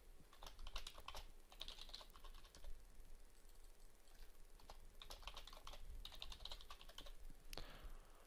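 Someone types a password on a computer keyboard with a quick, quiet run of key clicks, steady with brief pauses and no talking.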